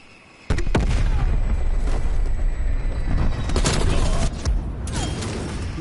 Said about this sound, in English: Strafe run incoming on your location.